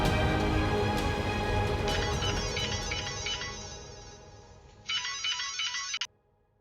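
A mobile phone ringtone plays in repeated electronic bursts, loud and close, ending abruptly, with a quieter background underneath at first.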